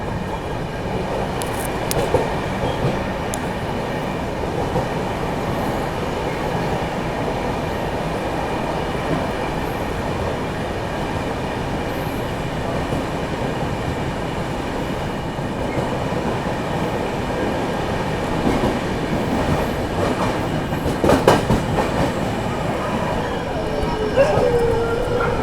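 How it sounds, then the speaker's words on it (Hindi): Maharashtra Sampark Kranti Express running through Godhra Junction without stopping: a steady loud rumble of wheels and wagons with rhythmic clatter and occasional squeals, continuous for the whole stretch. "यहाँ पर अपनी ट्रेन स्किप कर रही है गोधरा जंक्शन को"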